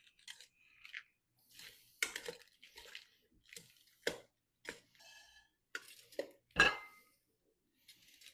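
Antipasto salad tossed with Zinfandel vinaigrette in a bowl: a scattered series of soft, close clinks and wet crunchy rustles, spaced irregularly with brief quiet gaps.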